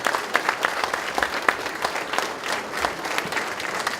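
A crowd at an election event gives itself a round of applause, with scattered individual claps audible within a steady, moderately loud wash of clapping.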